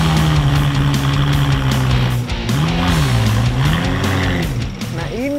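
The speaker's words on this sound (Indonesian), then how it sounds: "mobil radio kontrol ini termasuk dalam jenis off-road radio kontrol adventure guys" An off-road adventure-type radio-control car driving a challenging track, its small electric motor whining loudly and sliding up and down in pitch as it accelerates, with voices talking underneath.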